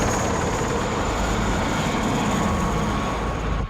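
A steady, loud roar of helicopter rotors and engines from the 1988 film Rambo III, continuous and droning throughout, with no talking.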